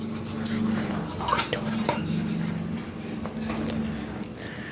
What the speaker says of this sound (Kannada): ನಾನೆಲ್ಲನೂ ಸಬೀನ ಹಾಕಿ ಉಜ್ಜಿ ನೋಡಿಸ್ತೀನಿ, ನಂತರ ತೊಳೆದು ನಿಮಗೆ ನೋಡಿಸ್ತೀನಿ ನೋಡಿ ಫ್ರೆಂಡ್ಸ್.